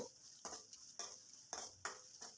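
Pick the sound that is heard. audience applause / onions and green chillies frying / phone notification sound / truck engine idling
onions and green chillies frying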